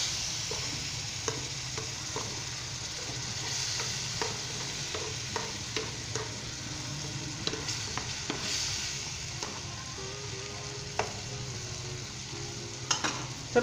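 Chopped tomatoes and spices fry with potatoes and peas in a pan, giving a steady soft sizzle broken by repeated scraping and knocking of a spoon as the mixture is stirred, close and with no talking.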